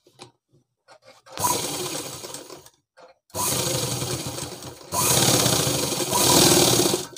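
Bursts of a sewing machine stitching fabric for a girls' school dress, three sustained runs separated by short pauses with faint handling noises between, fairly close and steady.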